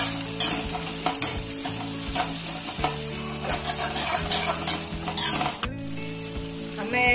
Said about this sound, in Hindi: फलियों है ये नोक लो उन्हें मिक्स कर लो दो मिनट ने तेल में फ्राई कर लो